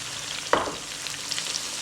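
Chopped tomatoes hit hot oil in a pan of spicy mutton balti gosht, giving a sudden loud splash of sizzling that settles into a steady, close frying hiss with faint stirring scrapes.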